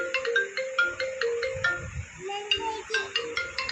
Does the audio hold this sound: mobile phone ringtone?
yes